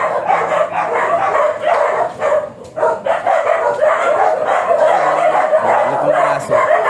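Several dogs bark and yip in repeated bursts close by in a Cavite neighborhood, with a few whimpers mixed in and no talk over them.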